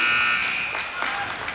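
End-of-game buzzer at a junior hockey game between KC Hockey Club and the Des Moines Jr Bucs, a loud sustained electronic blare in the rink that fades out under crowd noise.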